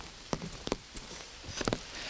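Rain falls during a walk through a wooded park estate, arriving as scattered close drops and taps over a soft steady patter, with no voices.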